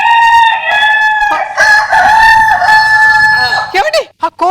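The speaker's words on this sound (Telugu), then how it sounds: "ఎక్కడ కోడి సౌండ్ అండి?" A rooster crows loudly and close in long, drawn-out calls with a brief clucking break, ending in short clipped notes.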